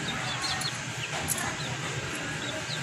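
A very small non-bantam chicken clucking softly in short bursts, with faint chirps and a steady background hiss of outdoor ambience.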